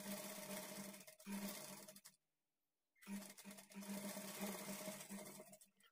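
Sewing machine stitching the shoulder joint of a high-neck blouse, front and back pieces held together. Two bursts of steady, close whirring run about two seconds and three seconds each, separated by a brief pause.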